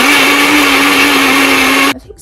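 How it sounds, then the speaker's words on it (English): A kitchen blender runs at a steady, loud whir for about two seconds, then cuts off abruptly, leaving a quiet room. "someone's using the blender."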